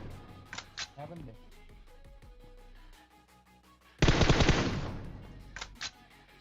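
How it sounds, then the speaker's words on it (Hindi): Gunfire in the PUBG Mobile video game aimed at a parked car: a few sharp single shots, then a loud rapid burst of automatic fire that fades out, with someone talking over it. "अब मैं गाड़ी पे गोली चलाता हूँ, दीवार पे गोली चलाता हूँ"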